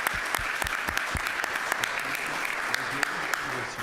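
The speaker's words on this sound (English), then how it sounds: "Once again, let's give a round of applause for Tracy Weber." Applause for Tracy Weber at a school district Board of Education meeting: a dense, steady patter of many hands clapping with sharp individual claps standing out, continuing throughout, with faint voices underneath.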